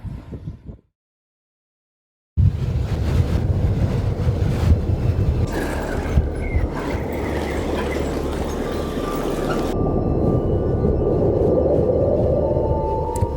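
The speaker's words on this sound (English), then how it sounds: "it's still very choppy and a lot of wind" Strong wind buffets the microphone over an engine-like rumble and water noise on a choppy sea, continuous and loud after a brief silent gap near the start.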